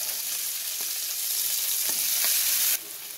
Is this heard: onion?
yes